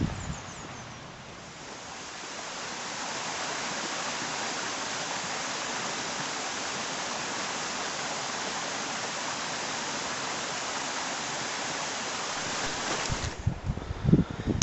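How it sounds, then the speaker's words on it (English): The River Tilt in Glen Tilt, Scotland, flowing nearby as a steady broadband rush of water that holds constant for most of the stretch before dropping away near the end. "the River Tilt's just over there"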